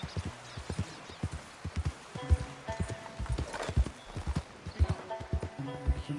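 A horse in Red Dead Redemption II gallops with rhythmic, close clip-clopping hooves in a steady beat, punctuated by snorts and a brief whinny-like tone over faint background music.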